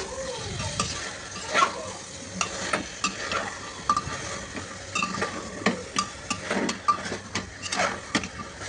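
Meat being sautéed in a pan until browned, before the salt goes in: a spoon repeatedly scrapes and clatters against the pan in an irregular rhythm over a low, steady sizzle, close and fairly quiet.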